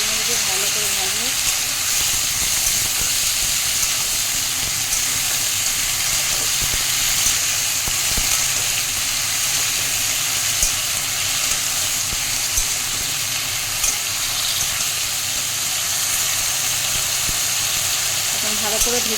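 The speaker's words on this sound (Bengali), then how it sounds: "সবগুলো ছেড়ে নিয়ে ভালো করে ভাজবো" Mixed vegetables fry in a pan with a loud, continuous sizzle and hiss that holds steady throughout, and a voice is faintly present at times.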